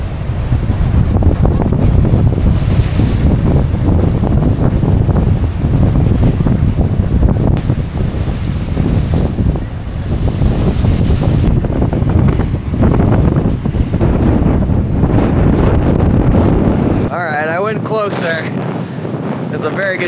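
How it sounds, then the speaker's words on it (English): Ocean waves splash up and over rocks on the Oregon coast under strong, steady wind buffeting the microphone, a loud continuous roar throughout with a sharper watery burst near the end. "it keeps getting big waves splashing up and over"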